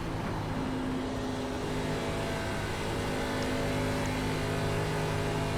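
Race car engine in the iRacing ARCA Menards Series sim at Charlotte Motor Speedway, a steady loud drone with harmonic tones held under throttle throughout, no talk.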